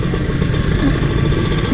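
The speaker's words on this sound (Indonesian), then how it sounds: "Yang bikin gue demen naik motor 2 stroke atau 2 tak gitu ya gini." A 2015 Kawasaki Ninja RR two-stroke motorcycle engine runs loud and near with a raspy, buzzing drone and rapid clattery pulses, held steady without clear pauses.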